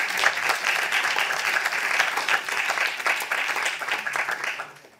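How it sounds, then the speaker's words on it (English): A conference audience at an MSCA event breaks into sustained applause, a thick, lively patter of many hands at steady volume that tapers off at the close. "A big round of applause"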